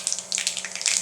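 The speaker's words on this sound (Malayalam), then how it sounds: "കടുക് നന്നായി പൊട്ടിയിട്ടുണ്ട്" Mustard seeds crackle and pop in hot coconut oil in a wok, a dense run of sharp little bursts over a steady high hiss, close and fairly loud with no voices.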